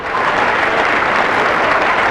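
A talk show studio audience breaks into applause, a dense, loud and even wash of clapping that holds steady from start to finish.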